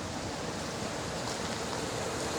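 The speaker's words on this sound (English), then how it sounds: "There's a little creek right at the beginning of the trail here." A small creek flowing at the start of a forest trail, a steady broadband rush of running water, close and continuous with no talk.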